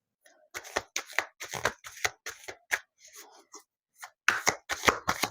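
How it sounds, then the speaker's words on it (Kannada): Tarot cards laid out one after another on a table, giving a string of crisp slaps and soft shuffling flicks in irregular bursts, close and fairly clear with brief pauses between groups. "ಸೊ ಇಲ್ಲಿ 5 ಕಾರ್ಡ್ ಇಡ್ತೀನಿ"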